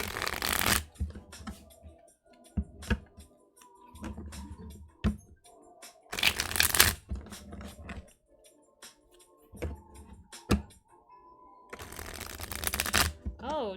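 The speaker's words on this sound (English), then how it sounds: "Gotta get my hands to shuffling." Tarot cards being shuffled by hand, with repeated loud, close riffling bursts separated by brief pauses and softer handling sounds, while a person speaks quietly in between.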